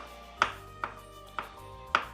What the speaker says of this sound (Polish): Teraz pokroimy ogórki.